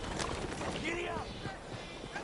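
Horse hooves clip-clopping at a gallop in Red Dead Redemption 2, a steady rhythmic beat under a rider's voice and a brief whinny-like sweep.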